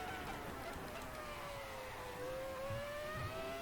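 Ferrari F2004 Formula One engine in a racing video game, a steady high-pitched whine holding a sustained tone and sliding gradually lower, with faint low rumble beneath and no talk.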